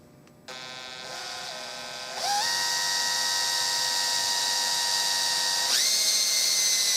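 An electric drill bores into a wooden Mauser rifle stock with a steady, high whine. Its pitch steps up as the bit bites deeper and holds loud and continuous to the end.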